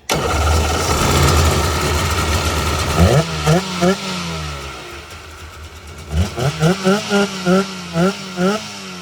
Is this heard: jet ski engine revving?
yes